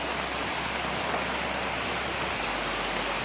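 Steady rain pattering on a thatched coconut-leaf hut roof, a dense even hiss of drops close by, continuous with no talking.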